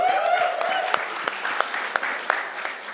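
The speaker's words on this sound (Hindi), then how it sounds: "पर मनोज के लिए तालियां तो बनती है यार।" An audience at an app launch event keeps up a dense round of applause, with a few sharper claps standing out. It carries on evenly throughout and no one speaks.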